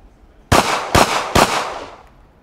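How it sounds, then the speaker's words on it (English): Smith & Wesson M&P pistol fired fast: three loud, close shots in quick succession, the last one's echo trailing off into quiet. "And let's try some fast body shots."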